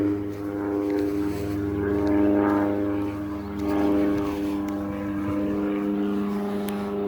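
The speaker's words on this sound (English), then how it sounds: "I noticed there's several airplanes in the air." Several propeller airplanes fly overhead on a clear day over McMinnville, Oregon, a steady droning hum with tonal harmonics that swells and fades as they pass, loud and continuous with no talk.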